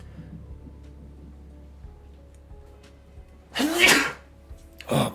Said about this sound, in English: I feel like I'm going to sneeze too.